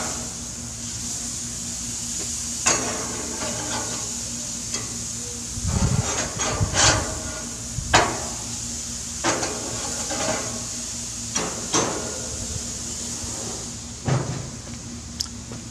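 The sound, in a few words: steak being flipped on a grill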